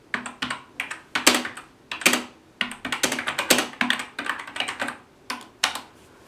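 Someone types on an iMac G4 computer keyboard, a close, quick, irregular run of crisp key clacks with short pauses between bursts.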